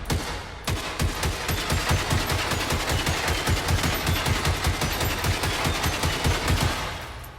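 Sustained automatic gunfire in the Generation Zero video game, rapid rhythmic bursts firing at a robot for about seven seconds, loud and close with no talking.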